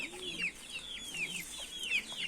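Chicks cheeping and peeping with a low cluck underneath, a busy flock of young chickens chirping close by over a soft background hiss.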